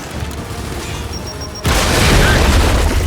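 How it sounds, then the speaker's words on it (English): A frag grenade detonates in Gears of War 5, a sudden loud boom that cuts in midway and leaves a sustained roar of debris and rumble after quieter game ambience. "Gotta get a frag in that thing! Throwing frag!"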